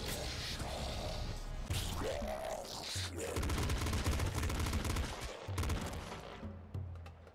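Rapid gunfire in the video game Nuclear Throne Ultra Mod, dense bursts of synthetic shots and impact crunches overlapping with game effects, busy and continuous.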